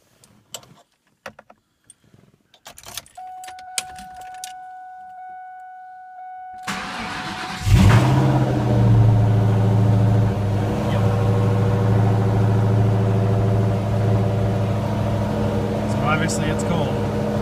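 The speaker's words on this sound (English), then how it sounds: "here's your cold start video" A cold Cobra car engine starts up after some clicks and a steady warning chime: the starter cranks, the engine catches with a loud burst, then settles into a strong, steady idle.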